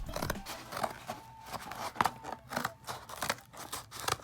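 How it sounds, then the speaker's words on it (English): Scissors cut open a mail package of sports cards with repeated close, crisp snips and scraping crunches of paper and plastic, in uneven bursts. "Okay, we'll just cut it."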